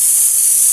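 Soy sauce poured into a pan of sautéing chayote gives a steady, loud, close hiss of sizzling with no talking.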